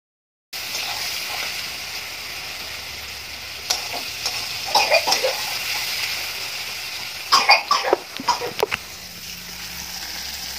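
Onion, garlic and bay leaf fry in hot oil in a pan, giving a steady sizzle with bursts of stirring and spattering. A cough is heard partway through.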